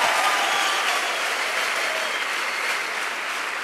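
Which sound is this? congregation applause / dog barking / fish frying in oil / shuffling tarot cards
congregation applause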